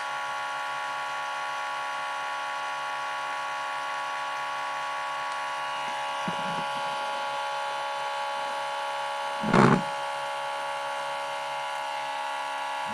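Axial pulse motor with four coils and four neodymium magnets spinning at over 4,000 RPM, a steady high-pitched electric whine and buzz that holds even, close by, with a couple of brief knocks and no voices.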